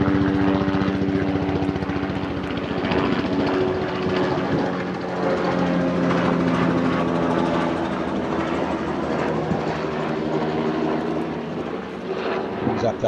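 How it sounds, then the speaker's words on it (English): A helicopter passes over a cricket ground during a one-day match, its loud, steady rotor and engine roar filling the whole stretch without letup. "Another local farmer flies over in his helicopter,"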